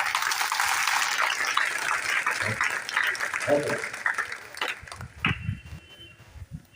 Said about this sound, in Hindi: इनको देख कर फिर ताली जोर से बजाते